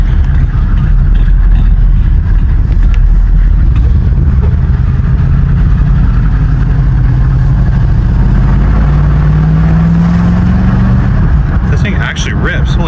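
A project car's engine runs continuously with an uneven, misfiring note, loud and close, its low rumble rising in pitch as it picks up revs, with people talking over it.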